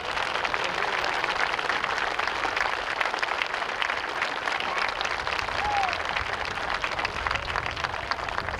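A high school graduation audience gives sustained applause for the faculty, staff and parents, a dense, even wash of many hands clapping in a large hall, heard at a moderate distance with no pauses.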